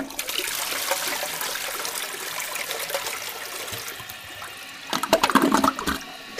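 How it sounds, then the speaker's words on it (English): Toilet flushing with a steady rushing gush of water that fades into trickling and gurgling refill sounds, close by with no talk. "I flushed it down the toilet."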